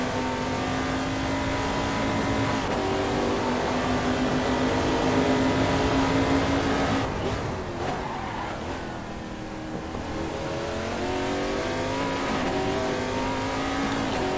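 A race car engine in a racing sim game at Sveg Raceway holds a steady high drone, dips as the car slides through a corner with tire squeal, then climbs again under power.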